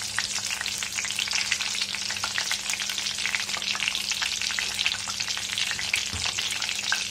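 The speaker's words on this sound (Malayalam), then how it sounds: "കുറച്ച് കറിവേപ്പില ഈ വെളിച്ചെണ്ണയിലേക്ക് ഇടുക" Curry leaves sputtering in hot coconut oil for a Kerala chicken fry, a bright, busy crackle of rapid pops and hiss that stays steady and close, with no voices.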